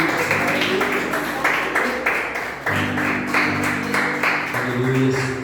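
Church congregation applauding at a Wednesday service, a steady wash of clapping from many hands with sustained musical tones underneath, continuous and moderately loud throughout.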